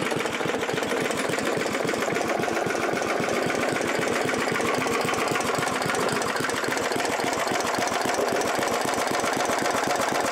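A 1988 Murray lawn mower's small engine runs continuously with a rapid, even chugging pulse, loud and close, with no talking over it.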